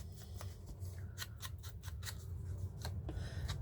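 Scissors snip through paper to shape a postal-style tag, giving a series of sharp, close cuts at an irregular rhythm over a quiet background.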